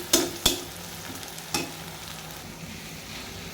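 Onions frying in a pan for beef feska bhuna, a steady close sizzle punctuated by several sharp spatula scrapes and knocks against the pan, no voices.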